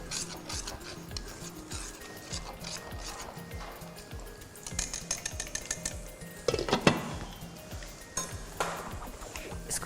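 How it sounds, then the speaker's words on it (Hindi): Kadhi, a thick yogurt curry, stirred in a pot over low heat: repeated scraping and rubbing of a utensil against the pot, with occasional louder clinks and a brief loud swirl. "कड़ी को एक बार हम फिर चलाएंगे।"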